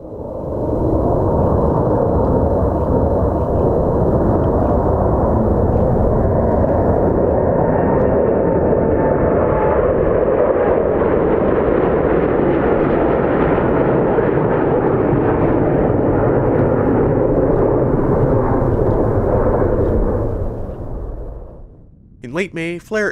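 A KLM Boeing 787-10 Dreamliner roars at Calgary airport, a loud, sustained broadband jet rumble that swells and holds for about twenty seconds before fading out.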